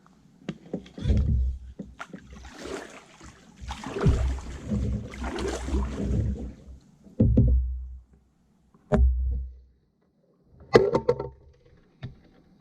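Paddle strokes from a kayak on the Turner River, the paddle split apart into single blades, splashing in irregular bursts with short pauses between, close and fairly loud.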